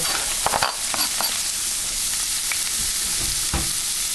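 Onions cooking in a little olive oil in a pan on a stovetop burner, giving a loud, continuous sizzle with a few stirring knocks near the start, close and with no talking.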